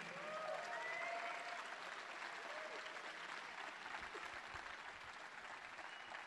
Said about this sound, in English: Please give them a round of applause as they join me on stage